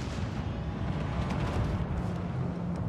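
Dull, rumbling blasts of a torpedo explosion during a World of Warships Legends naval battle, with heavy low booms rolling continuously across the whole moment.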